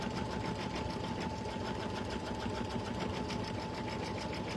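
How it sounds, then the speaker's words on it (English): An embroidery machine runs steadily and close, stitching out placement lines for attaching pockets with a continuous fast mechanical whirr and rhythmic needle clatter; no talking. "after this, we have a step that will stitch out lines so we can see where to"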